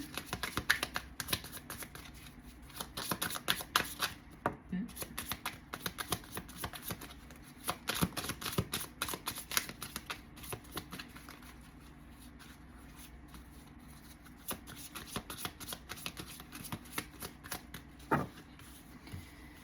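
Oracle or tarot cards are shuffled close up, a long run of dense, riffling card flutters and taps that continues almost without pause, with a few brief lulls.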